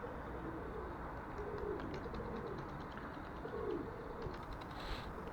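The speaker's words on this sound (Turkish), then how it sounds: "Kuş geliyor şu anda." A pigeon coos softly a few times in low, rolling phrases against a steady background hiss, with faint clicks near the end.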